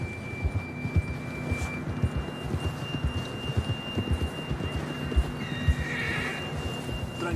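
Horses in the Red Dead Redemption 2 video game, ridden through the wilderness. A steady run of close hoofbeats fills the scene, with a snort and brief whinny near the end.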